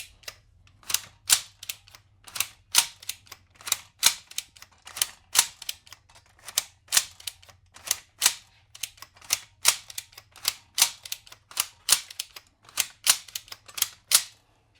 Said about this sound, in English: you want to hear that rack pop back on itself